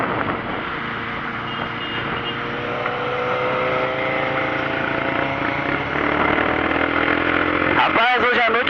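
A Suzuki Bandit motorcycle engine runs steadily at close range, a constant rumble with a slight rise in revs near the end, while voices talk over it.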